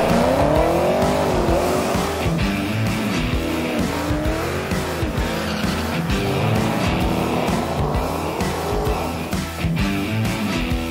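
A 2014 5-liter car with an Edelbrock E-Force supercharger races hard, its engine revving up and down through gear changes with loud, close, continuous roar and some tire squeal.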